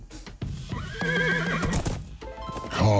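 A horse in Minecraft: Story Mode lets out a loud, close whinny, followed by a few hoof clip-clops and another short snort, with no talking.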